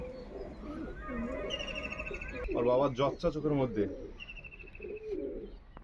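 Punjabi pigeons cooing close by in a few low, rolling bursts, partly under someone talking.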